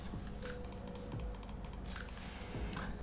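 A knockoff Logitech G304 mouse's shallow middle button is pressed a few times, giving quiet, close, crisp clicks spaced irregularly over a faint background.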